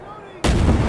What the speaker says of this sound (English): That was either grenade or mortar fire.